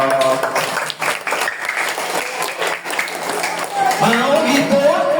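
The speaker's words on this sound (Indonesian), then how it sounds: "Tepuk tangan dong." Children at an elementary school Isra Miraj event clap together in a steady, dense burst, with voices mixed in and what sounds like music or singing rising toward the end.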